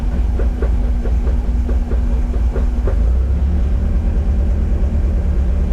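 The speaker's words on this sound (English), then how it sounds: "My idle's a little bit off, I've got to keep my foot on the gas so I can keep it idling at about a grand" A car engine idles roughly with a slightly uneven idle held near a thousand rpm by the throttle, giving a steady low rumble with a faint rhythmic pulsing.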